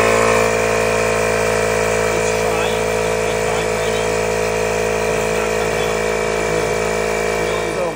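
A VW Vanagon Doka pickup truck engine runs at a steady idle, a constant mechanical drone with strong tonal hum throughout, and someone talks over it.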